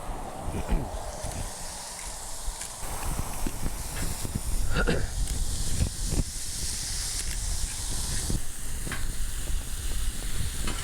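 Ground meat sizzles on a Blackstone griddle, a loud, continuous hiss broken by clacks and scrapes of a spatula, with a voice talking intermittently over it.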